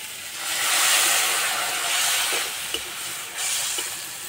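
Water poured onto hot spinach and spice masala in a pan bursts into a loud steamy hiss that swells and eases over a few seconds, with faint stirring clicks underneath.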